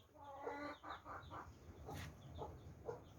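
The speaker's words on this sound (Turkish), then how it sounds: "Arkadaşlar şimdi yumurtlayan tavuklarımız var." Laying hens in a coop clucking in short, repeated bursts, several soft throaty calls close by over a faint background hum.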